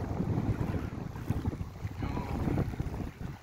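Steady wind roaring across an open microphone, broadband and gusty throughout, with a low rumble that swells and eases without any talking.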